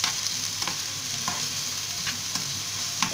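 Onion and peppers fry in a pan for a spinach-and-egg dish, with a steady close crackling sizzle broken by a few sharp stirring scrapes.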